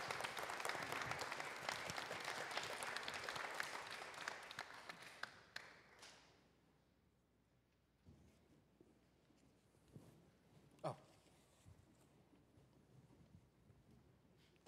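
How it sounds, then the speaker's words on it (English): A church congregation applauds during a Sunday service, a brief burst of clapping that fades out after about six seconds, leaving a quiet room with a few faint knocks and shuffles. "You may clap one more time for these fine folks."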